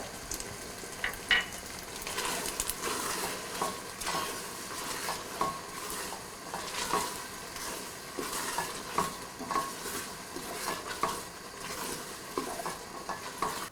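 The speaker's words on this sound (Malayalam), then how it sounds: "ഈ സമയത്ത് നമ്മൾ എടുത്തു വച്ചിരിക്കുന്ന 4 ടേബിൾ സ്പൂൺ പഞ്ചസാര ചേർത്ത് മിക്സ് ചെയ്യുക" A pan of ada pradhaman with jaggery syrup and sugar being stirred steadily: continuous scraping and clinking of a spoon against the pot over a soft bubbling sizzle, close and moderately quiet, with no talking.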